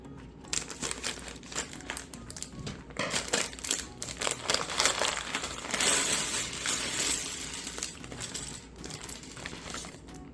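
Crinkling plastic bag of toy building bricks being cut open, with close, continuous crackling and rustling bursts throughout, no talking.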